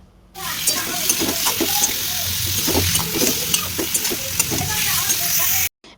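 Eggplant slices sizzle steadily in hot oil as they are stirred and lifted out, with a dense, crackling hiss and scattered small pops and clinks throughout. The sound cuts off abruptly near the end.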